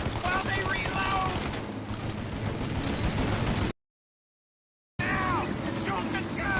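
Rapid bursts of gunfire from a Mafia shootout video game, dense and loud, fill the clip, cut by a brief stretch of total silence before the firing resumes.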